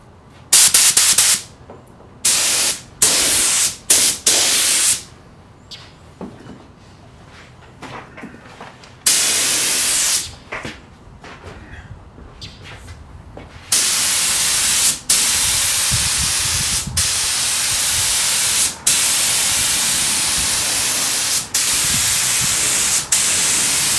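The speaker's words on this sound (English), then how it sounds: "I'll be shooting a couple more coats of lacquer on this" A spray gun shoots a lacquer top coat onto a wooden Depression-era tabletop after glazing, in loud bursts of hiss that start short and choppy, then run as long continuous passes with brief breaks, close and alone.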